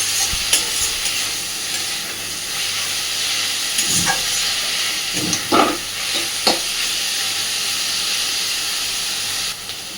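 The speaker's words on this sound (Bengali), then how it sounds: "ততক্ষণ সুন্দর করে চিচিঙ্গাটাকে ভেজে নেব।" Snake gourd fries with salt and turmeric in a pan, giving a soft continuous sizzle and hiss, broken by a few spatula scrapes and knocks in the middle; close, with no voices.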